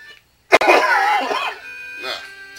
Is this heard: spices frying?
no